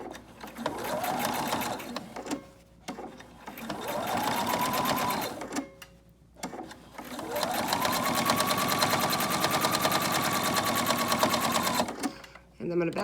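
A sewing machine stitches a homemade fabric dust mask in three runs of steady motor whir and rapid needle clatter, close and clear, with short pauses between them where the operator speaks.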